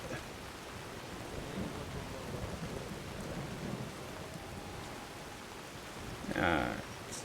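Steady rain hiss in a modded Skyrim game, continuous and moderately loud, with a brief burst of thunder or heavier crackle near the end and faint talk mixed underneath.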